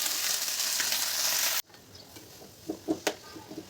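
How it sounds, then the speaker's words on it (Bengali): Onion frying in mustard oil with a loud, steady sizzle that cuts off abruptly, followed by quieter crackling and a few distinct stirring clinks close by. "পেঁয়াজটা যখন এরকম ভাজা হয়ে আসবে তখন আমি চিচিঙ্গাগুলো দিয়ে দেব"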